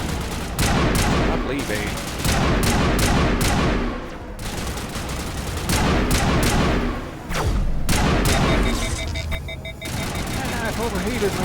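Rapid bursts of weapon fire from a Mass Effect firefight crackle loudly in repeated volleys with brief pauses between them, while a voice speaks briefly over the shooting.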